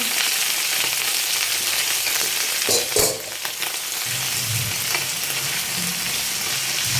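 Bok choy fries in a pan with garlic and onion for a tofu stir-fry, giving a steady, loud sizzle throughout, with a brief stirring clatter partway through.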